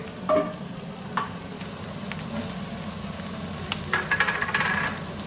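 Garlic is added to onions frying in a pan for paella, a steady close sizzle with a few scraping stirs and light clinks of the utensil.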